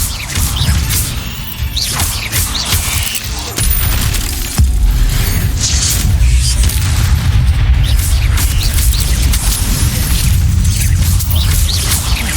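A fiery Incendio spell cast in Hogwarts Legacy erupts in heavy booming blasts and whooshing bursts. The loud, dense rumble runs steadily throughout with crashing impacts layered on top.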